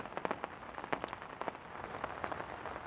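Rain falls during fishing on a lake bank, a soft, steady patter of drops with scattered sharper taps, fairly faint and close.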